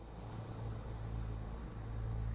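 A car heard from a distance, a low steady engine rumble that swells slightly, faint and muffled with no other sounds.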